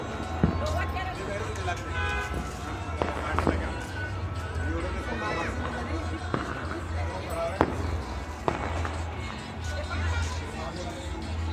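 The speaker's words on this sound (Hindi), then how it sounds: "इधर से पीछे से देखिए कितनी सारी हो रही है आतिशबाजी।" Distant fireworks during a Makar Sankranti celebration, scattered sharp pops and bangs spread through a busy outdoor background, with people talking over them.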